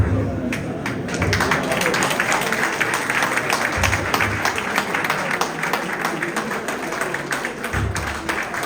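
An audience applauds slam poets at an exhibition, with steady dense clapping throughout and a voice speaking over it.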